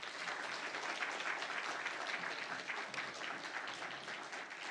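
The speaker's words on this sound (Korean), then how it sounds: "우리 나오실 때 이제 뜨거운 박수로 환영하면서 오늘 첫 말씀을 듣도록 하겠습니다." A church congregation at a New Year special revival service gives dense, sustained applause to welcome a speaker, a steady wash of many hands clapping at once with no voices above it.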